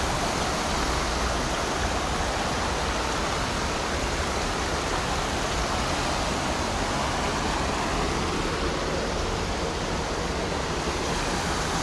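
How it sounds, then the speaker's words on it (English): A forest river near Bansko, Bulgaria, rushes past nearby as a loud, continuous broadband roar of flowing water, dense and unchanging with no voices over it. "this is the river"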